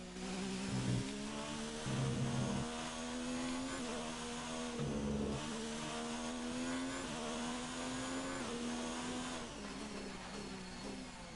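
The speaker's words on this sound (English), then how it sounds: "You can hear the car scraping along the floor." Ferrari Formula 1 car in the F1 2019 racing game at the Belgian Grand Prix, a steady loud engine drone with a grinding scrape of the floor against the track running throughout, with no talk.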